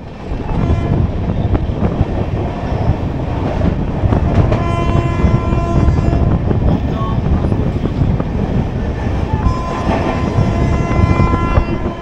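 Humsafar Express train rolling past Dum Dum, heard from aboard as a loud, steady rumble and rattle of wheels on track with rhythmic clatter throughout.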